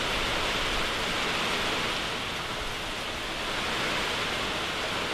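Torrential hurricane rain roars in a constant, dense wash of noise, driven by strong wind, loud and unbroken throughout.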